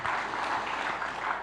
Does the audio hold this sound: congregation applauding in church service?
yes